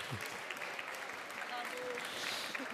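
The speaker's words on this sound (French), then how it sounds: "On peut les applaudir encore" Audience applause after an award presentation at a ceremony, a steady soft wash of clapping heard from a distance, with a faint voice and a brief tone partway through.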